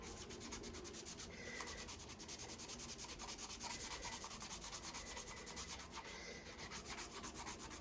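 Hand-sanding a firearm with sandpaper while wearing latex gloves: a continuous, close scratchy rubbing in quick repeated strokes that holds an even level throughout, with no voices.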